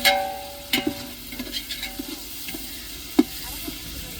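Ginger and garlic being stir-fried in a pan, with soft spatula scrapes and a faint sizzle, plus one sharper clack near the end, close and fairly quiet with no talking.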